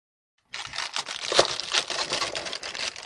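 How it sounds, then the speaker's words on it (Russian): A rustling plastic parcel bag holding a shoe dryer is torn open and handled, giving close, continuous crinkling and crackling after a brief silence. "Очень шуршащий пакетик."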